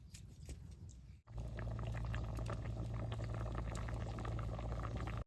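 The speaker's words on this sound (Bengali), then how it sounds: "ডালটা সুন্দর ফুটে গেছে" A pot of lentil dal with young jute leaves bubbles at a steady boil, a continuous close burbling hiss that starts abruptly after a quieter second and runs evenly to the end.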